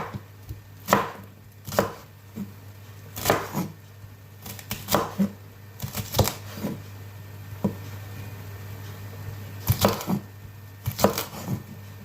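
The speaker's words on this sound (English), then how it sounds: "Very easy way to cut okra." A knife chopping okra on a board, a run of sharp, distinct cuts in irregular clusters, close and fairly loud with short pauses between groups and a low steady hum beneath.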